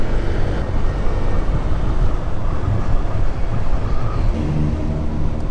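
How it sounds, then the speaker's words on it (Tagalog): Strong wind buffeting a moving rider on the road between Caticlan and Iloilo, a loud, constant roaring rush that fills the whole stretch with no speech. "Tsaka pakalakas ng hangin."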